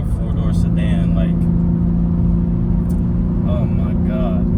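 A BMW G80 M3 fitted with an intake and exhaust valve controller holds a loud, steady droning engine note nearby while someone speaks over it.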